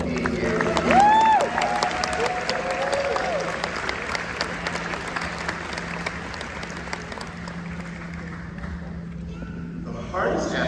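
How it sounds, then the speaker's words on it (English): Graduation ceremony audience for a master's in mental health counseling commencement applauding and cheering, a broad sustained crowd roar with clapping that swells early and tapers slightly, heard at a distance through a room mic. "Let's give them a big round of applause for being here."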